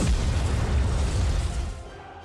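The Eden spear fires and explodes in the game Nikke, a loud deep boom with rumbling low-end that rolls on before tapering off, with no voices over it.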